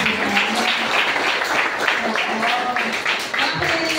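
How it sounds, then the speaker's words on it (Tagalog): Louder applause for Coach Mino from a training-session audience, a dense, sustained round of clapping close by, with some voices blended underneath. "dapat mas malakas pa palakpak kay Coach Mino"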